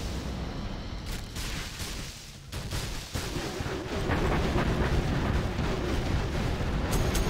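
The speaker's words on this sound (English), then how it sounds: "Here comes the artillery" Heavy artillery barrages in a real-time strategy battle on a desert map, a dense continuous rumble of booms and blasts that builds in loudness partway through, with no voices.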